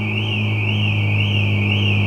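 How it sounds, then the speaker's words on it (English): A Renault Clio car alarm going off at close range in a garage, a loud, steady warbling siren tone cycling evenly and continuously throughout, with a low constant hum beneath it. "Clio alarm loves to go off when this or other cars turn on"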